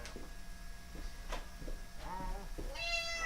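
A pet cat meows a few times indoors, the later calls drawn out and clearer, heard close against a faint room hum.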